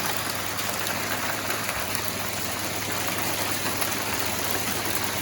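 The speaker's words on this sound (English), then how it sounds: "We got big time hail in California." Hail pelts down steadily during a California storm, a dense, even hiss and patter of ice striking surfaces, constant and fairly loud with no talking.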